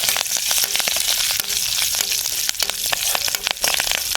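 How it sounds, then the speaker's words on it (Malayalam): Curry leaves crackle and spit in hot oil for a pineapple pachadi tempering, a loud, dense close sizzle with quick scraping stirs throughout. "എന്നിട്ട് അതിലേക്ക് നമ്മൾ കുറച്ച് കരുവേപ്പില കൂടി ഇട്ടിട്ട് നല്ല രീതിക്കൊന്ന് ഇളക്കുക"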